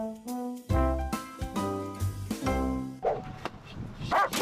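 An RCMP police dog barks several times in a loud, close, irregular burst, followed by quieter rustling and shorter yips.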